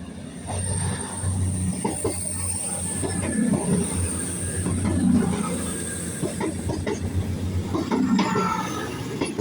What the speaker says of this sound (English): Here goes a cross-country 221 from Aberdeen to St David's.